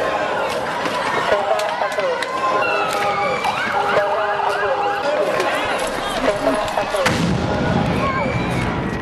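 A Tzeva Adom rocket alert siren wails in Israel amid loud booms and cracks, with people talking over the continuous noise.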